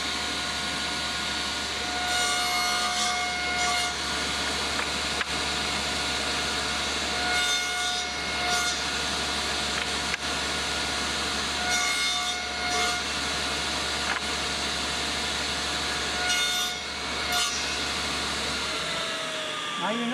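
A table saw cuts a tenon shoulder in wood: a steady motor hum runs throughout while the blade bites the workpiece in several repeated passes, each a rising rasping whine, close and loud, with no speech.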